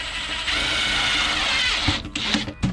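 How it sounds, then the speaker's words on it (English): A power drill with a 5/16 bit bores into a plastic RV tank, a loud continuous whine close by that ends in a few sharp knocks and clicks as the bit breaks through. "5/16 drill bit is the way to go"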